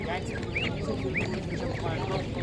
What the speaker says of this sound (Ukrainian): Такі качечки.